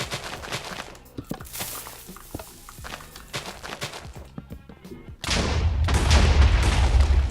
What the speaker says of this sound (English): Let's blow this guy up.